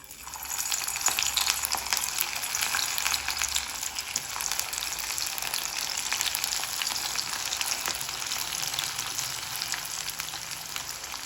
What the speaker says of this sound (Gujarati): ચલો તો આ રીતે હું કઢી લઉં પછી તળીએ.